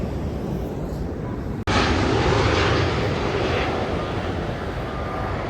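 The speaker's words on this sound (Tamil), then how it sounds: "ஸ்ரீலங்கன் ஏர்லைன்ஸ் வந்து லேண்ட் ஆகிறதையும் நாங்கள் எடுத்துட்டோம்" A Sri Lankan Airlines airliner lands at Heathrow, its engines producing a steady, loud broadband roar that swells sharply after a brief dropout and holds strong to the end, with no talk.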